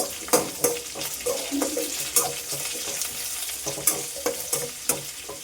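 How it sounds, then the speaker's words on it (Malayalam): Shallots and green chilies frying with coconut pieces in a pan: a close, steady sizzle broken by repeated spatula scrapes and taps against the metal, with no voices. "നമുക്കതിലേക്ക് ചെറിയുള്ളി ഇട്ട് കൊടുക്കാം"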